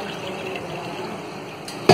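Water streams steadily into a kitchen vessel, a soft continuous hissing rush close by, ending with a brief knock at the very end.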